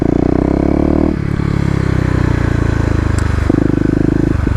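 A Kawasaki KLX250 motorcycle runs loud and close with a rapid, pulsing engine beat that drops in pitch as it slows and brakes, then shifts again near the end, with no talking.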